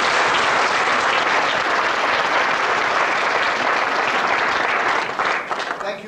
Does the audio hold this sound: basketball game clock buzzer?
no